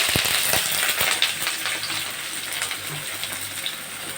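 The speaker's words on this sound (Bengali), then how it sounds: "পেঁয়াজগুলো একটু ভেজে নেই" Onions frying in hot oil in a kadai, a dense, loud continuous sizzle with occasional crackles and a few scraping stirs early on, close up and steady throughout.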